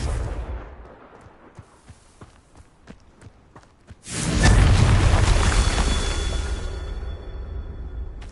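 Confringo fire spell explosions in the Hogwarts Legacy video game: light taps and footsteps give way to a sudden loud boom that roars and slowly rumbles down.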